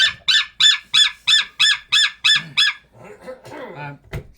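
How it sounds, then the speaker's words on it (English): Aaron, a white-tailed sea eagle, gives a loud, close series of about nine evenly spaced yelping calls, then quieter chattering notes and a sharp knock at the end. "So Aaron's a white-tailed sea eagle."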